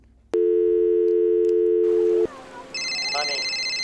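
A telephone line tone sounds while a call is placed: a loud, steady tone holds for about two seconds, then cuts to line noise before a higher ringing tone begins.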